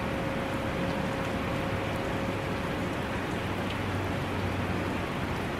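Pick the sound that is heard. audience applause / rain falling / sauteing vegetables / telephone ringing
rain falling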